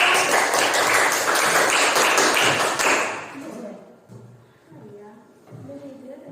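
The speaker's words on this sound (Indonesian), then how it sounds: "Kita kasih tepuk tangan dulu untuk kelompok." A class claps for the groups that just presented, a brisk burst of applause for about three seconds that stops abruptly, followed by quieter room sounds and faint voices.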